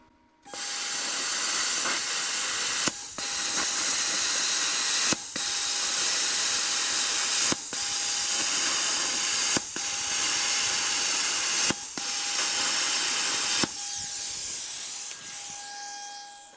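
A Silatu 75 amp plasma cutter runs in mesh mode with a steady loud hiss, broken by regular brief pauses roughly every two seconds as it cuts between holes, and a faint steady tone underneath throughout.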